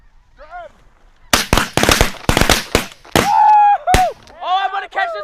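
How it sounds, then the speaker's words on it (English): Snow geese honking in flight during a hunt in Alaska at sundown, their calls rising between a rapid volley of loud, sharp shotgun blasts, with more honking close overhead at the end. "Got a nice little snow goose."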